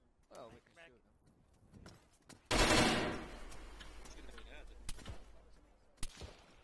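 Game gunfire during an Arma 3 firefight at a hotel: a loud close burst of shots that rings and decays, a few sharper single cracks afterward, with radio-style voices talking around it.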